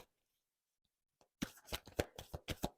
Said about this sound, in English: let's go ahead and get the last card out here in the staff